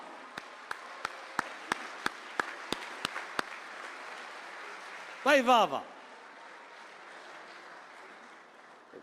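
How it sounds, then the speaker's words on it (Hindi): Applause at an Urdu mushaira in Dubai: about ten crisp, evenly spaced claps ring out in a slow steady beat, then a man calls out appreciatively, followed by a quiet room. "तालियां होनी चाहिए वसी शाह जैसी"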